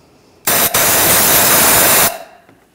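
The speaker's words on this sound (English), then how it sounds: "Now we're just gonna use some compressed air and just clean out the bore of where the spark plug is" Compressed air blasts a loud, broad hiss into the spark plug bore of a Volkswagen Tiguan, starting with a short burst, a brief gap, then a steady blast of about a second and a half before stopping.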